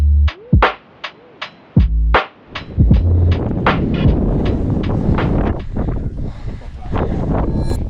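Strong wind buffets a microphone outdoors on a winter running route, a loud continuous rumble and roar with gusty swells and a few sharp knocks early on.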